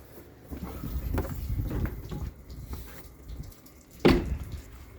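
Water overflows from a full fresh-water tank on a Winnebago View Navion RV outdoors, making a steady soft splashing trickle with a brief louder gush near the end.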